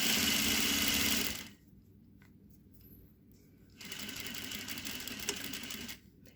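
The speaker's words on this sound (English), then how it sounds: "I'm going to begin at the top and stitch to the bottom of the dart in one straight line" A sewing machine runs in two loud, steady bursts while stitching a skirt dart in one straight line from top to bottom, with a quiet pause between the runs.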